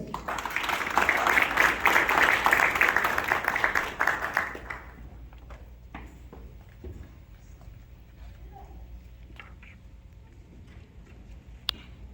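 An audience applauds a new Safety Patrol officer at a school program, with dense clapping for about four seconds before it fades to scattered claps, light taps and quiet room murmur.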